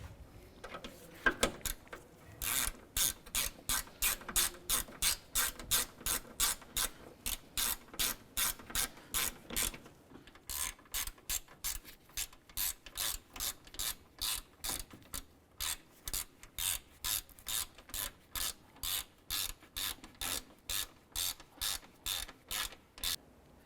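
A ratchet snugs down upper grille and bumper hardware on a 2006-2008 Honda Civic, a long run of close, crisp, evenly spaced clicks with a brief pause partway through.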